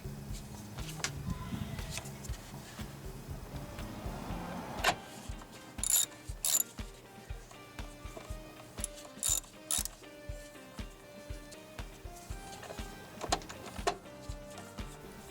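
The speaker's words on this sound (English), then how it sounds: "Now go ahead and put your last 10mm bolt on the bottom there and tighten it up." Ratchet wrench clicking as a 10mm bolt is tightened on the air filter box of a Kia Soul, threading into aluminum; close, repeated bursts of quick pawl clicks with brief pauses between strokes, no talking.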